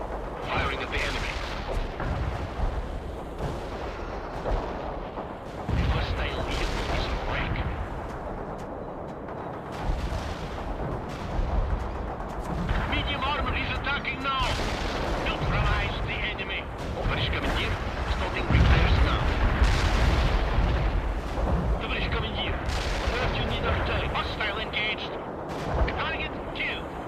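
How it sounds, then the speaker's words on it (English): Artillery and gunfire from the real-time strategy game World in Conflict: heavy booms and rolling blasts mixed with bursts of shots, loud and continuous over a dense battle din, with radio-style unit voices now and then. "Firing at the enemy."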